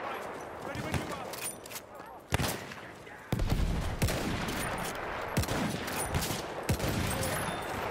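Rapid bursts of machine gun fire and scattered gunshots from a solo video game match, sharp cracks over a busy battle din, with a voice talking over the action.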